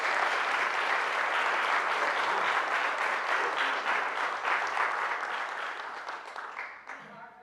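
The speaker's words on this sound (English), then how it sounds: "Let's give Davlin and everybody who's been a part of this a round of applause." An audience applauds, dense sustained clapping from many hands that holds steady and then gradually fades away toward the end.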